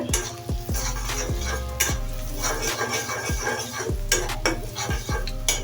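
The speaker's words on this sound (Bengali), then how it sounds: "আমি এগুলো পেঁয়াজ মাছটা একটু ভেজে নিব সুন্দর করে" Onions and fish fry in a pan with a constant sizzle, while a metal spatula scrapes and taps against the pan in repeated strokes roughly every half second to second.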